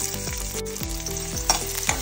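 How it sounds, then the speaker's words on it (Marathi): Chopped onion sizzles in hot oil for a crab masala, a steady close frying crackle with faint tonal hum behind it and brief stir sounds, no talking. "तेल जसे तापले तसे तितूर घालून घेऊया आम्ही कांदो"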